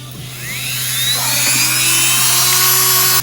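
A compressor air nozzle blows on a motorcycle carburetor, a loud, close, continuous high hiss with whistling tones that rises in strength and then holds steady before cutting off at the end.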